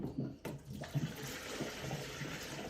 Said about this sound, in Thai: ล้างเครื่องก่อน ะครับก็คือล้างใส่น้ำเข้าไปครับ